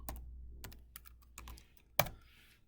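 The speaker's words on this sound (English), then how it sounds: "You can just type in help." Keystrokes tapped on a computer keyboard while working in MATLAB, a handful of separate clicks at an irregular pace, close and fairly quiet, with one sharper key press near the end.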